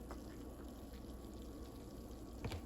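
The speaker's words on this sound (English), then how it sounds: "pour the almond milk" Almond milk pours steadily into a protein shake dessert, a soft continuous liquid stream with a brief louder splash near the end, no talking.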